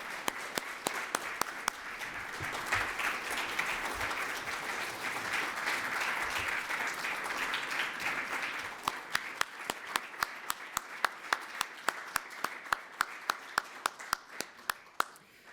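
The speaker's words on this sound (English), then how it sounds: "let's please give them another round of applause" Audience applause at a Connecticut awards ceremony, a full wash of clapping that swells and then thins into a few sharp, isolated claps near the end, fairly faint and without voices.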